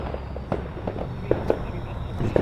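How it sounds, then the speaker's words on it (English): Fireworks going off at night near the Texas Chainsaw Massacre filming location house, several distant sharp pops scattered over a steady outdoor background, with no talking. "Fireworks behind me, the Chainsaw house in front of me."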